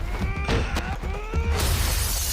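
Glass shatters as people fall onto it during a Daredevil fight scene, a loud crash followed by scattered tinkling debris.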